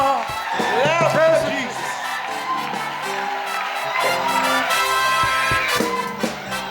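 A crowd erupts in acclamation, with loud overlapping cheers, whoops and clapping, while many voices shout and call out together throughout.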